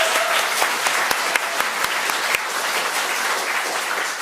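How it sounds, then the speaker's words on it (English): Steady applause from a live audience at a botanical quiz final, dense and continuous with a few sharper claps standing out near the front. "round of applause"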